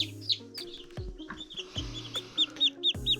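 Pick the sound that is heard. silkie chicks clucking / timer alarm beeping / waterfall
silkie chicks clucking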